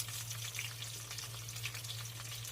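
Onions sizzle in hot oil in a pan for a spicy South Indian kuzhambu, a dense, even frying hiss heard close and alone with faint crackles throughout.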